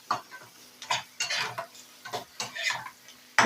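Spices for chicken kosa, a spicy curry made without ginger or garlic, are stirred and fried in a pan, with a rhythmic series of close scraping and clinking strokes over a soft sizzle.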